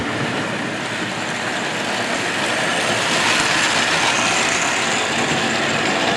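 A continuous loud rushing rumble of a model steam train running along the track, steady throughout with no speech.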